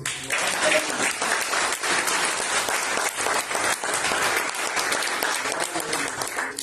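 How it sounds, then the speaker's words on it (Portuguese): A church congregation applauding at the end of a sermon, many hands clapping in a busy, slightly uneven patter with faint crowd murmur beneath, steady and close throughout. "As palmas com você."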